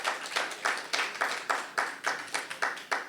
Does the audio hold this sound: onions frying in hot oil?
no